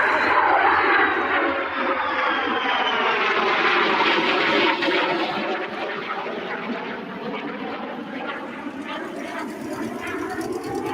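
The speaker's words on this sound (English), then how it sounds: "We're going to listen as these F-35s come by." F-35 fighter jets pass over the Oshkosh runway, a loud tearing engine roar whose pitch sweeps downward as the jets go by, then a sustained rumble fading slightly, with faint voices in the background.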